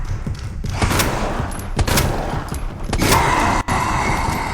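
Magnum fire in Resident Evil 2 Remake: several loud, sharp gunshot blasts spaced irregularly over a busy backdrop of combat noise, each crack ringing briefly before the next.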